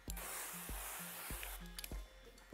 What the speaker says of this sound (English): Spray the film just to give it a little slip.